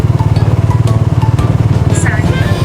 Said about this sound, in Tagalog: First time ko sumakay sa ganito motor.